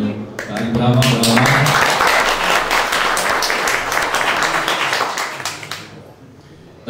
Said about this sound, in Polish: Tak, brawa, brawa.